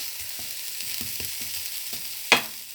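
Onions frying down and shrinking in a pan for a chicken okra stew, a gentle continuous sizzle with rhythmic spatula scrapes and one sharp knock toward the end.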